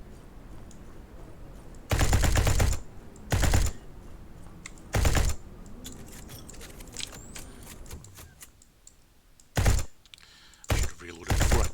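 Bursts of gunfire in SpaceBourne 2 while attacking an enemy soldier on foot near a village: five loud, separate volleys of about half a second each, spaced unevenly, over a low game background with no talk.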